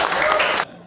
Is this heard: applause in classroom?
yes